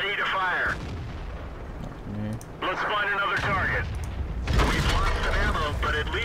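Tank gun firing in World of Tanks, a heavy boom landing amid game noise while someone talks over it in German, with engine rumble underneath and his voice filling most of the stretch.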